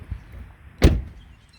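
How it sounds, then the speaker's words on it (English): Power folding side mirrors on a 2018 Ram 1500 Night Edition 4X4 pickup: a single short motorized whir-thunk as the mirror swings and locks, brief and close against a quiet background. "power folding mirrors."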